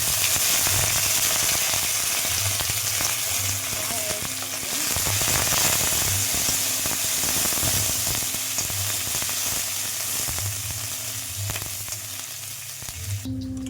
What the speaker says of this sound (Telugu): కొన్ని పల్లీలు అయితే వేయించుకున్నాను పచ్చిమిర్చి అందులోనే కొద్దిగా కరివేపాకు